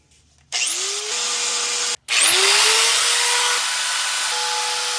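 A power sander strips powder coat from a steel wheel tab. The motor whines up to a loud, steady grinding drone, cuts out briefly, then spins up again and keeps running close by.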